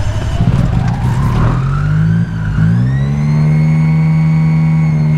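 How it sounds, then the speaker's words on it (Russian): A motor glider's small engine cranks and catches, then settles into a steady, loud mid-pitched drone whose tone rises slightly as it runs up, close by with no talking. "Так, моторчик вышел, включаю зажигание, снимаю с тормоза, от винта, запуск."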